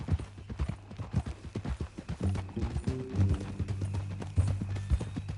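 Horse hooves in Red Dead Redemption 2, a rhythmic clip-clop of a horse walking and trotting, loud and near, with a low rumbling layer joining partway through.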